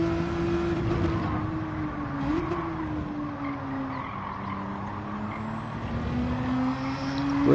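Race car engine in Gran Turismo 7 during a time trial, a steady loud engine drone with shifting pitch and tire skidding under heavy braking, continuous throughout.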